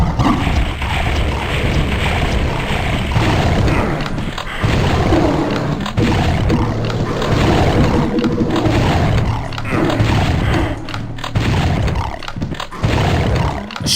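Plasma shots and super shotgun blasts pour into a monster horde in Doom 64, a loud, dense, continuous roar of gunfire, booms and creature noise with little letup across the span.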